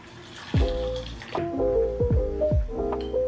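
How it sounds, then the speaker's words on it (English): Hot water poured over oats and chia seeds in a bowl, giving close, wet pouring and gurgling with repeated bubbly glides through a few seconds, with no talking. "I'm gonna mix it together and cover it with hot water and let it sit for about 2 to 3 minutes"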